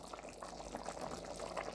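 Rose jam boils in a pot with a steady, close bubbling and popping texture that continues without a break.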